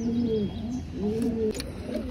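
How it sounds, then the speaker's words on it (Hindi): A single racing pigeon coos in two drawn-out, rising-and-falling calls while being offered water, loud and close, with a brief rustle near the end and no voices. "अब दोस्तों हम कबूतर को पानी पिलाएंगे।"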